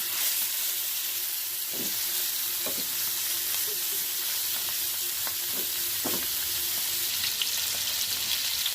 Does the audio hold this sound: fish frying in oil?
yes